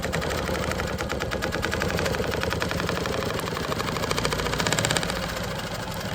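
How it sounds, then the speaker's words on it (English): A QMP 20 quilting machine stitching bag panels runs with a steady rapid mechanical chatter, close and loud, holding an even rhythm for several seconds without speech. "I'm just gonna go ahead and start quilting"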